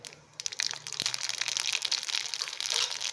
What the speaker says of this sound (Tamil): அதில் எண்ணெய் காஞ்ச உடனே கடுகு,